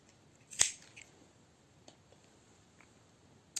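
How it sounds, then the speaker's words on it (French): A single sharp snip of scissors cutting cross-stitch embroidery thread, close and crisp, followed by a few faint handling clicks in a quiet room. "je rassemble les deux morceaux, comme ça, je coupe"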